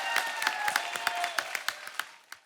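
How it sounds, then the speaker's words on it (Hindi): The studio audience of a TV comedy show applauds. The clapping starts as a full burst, then thins into scattered individual claps that fade toward the end. "जोरदार तालियां।"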